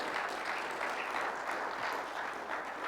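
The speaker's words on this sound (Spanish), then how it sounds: "dale un fuerte aplauso al Señor" A church congregation gives sustained applause during a sermon, an even, dense wash of clapping heard from a distance at low volume, with no speech over it.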